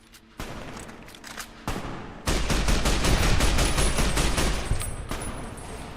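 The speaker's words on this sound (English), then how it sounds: "Why is he shooting the NCR?" Sustained rapid gunfire from a firefight in Fallout: New Vegas, with NCR troopers under fire; loud, dense bursts that start after a short lull and roll on almost continuously, with no talk over them.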